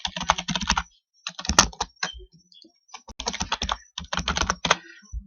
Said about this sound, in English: So if I type in my name,